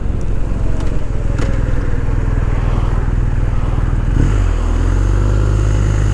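A 2020 BMW R1250 R motorcycle rolls along with a steady, low engine drone and wind rush, briefly dipping and settling into a lower, even tone near the end; no voices.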